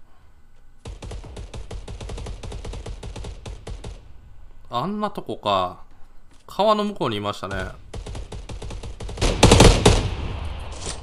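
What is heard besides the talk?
gunfire in the video game Knives Out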